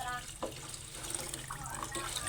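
Water running from a tap, a soft steady trickle heard faintly under someone talking, with a few small splashes.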